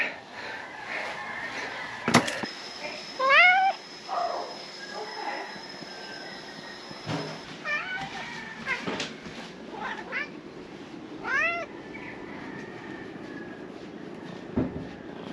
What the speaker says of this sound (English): Might be the most needy cat on the planet.